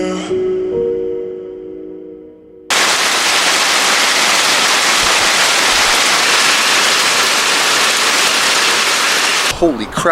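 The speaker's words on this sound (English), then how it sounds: "Holy crap, that was insane hail, eh?" Hail pounds a van roof in a dense, loud, steady roar that starts abruptly after a few seconds of quieter sound and holds for most of the clip, with a voice briefly audible near the end.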